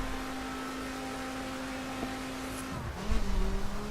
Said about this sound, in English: bit of wheel spin there, first gear.